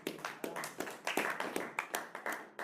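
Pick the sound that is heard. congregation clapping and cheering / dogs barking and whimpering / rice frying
congregation clapping and cheering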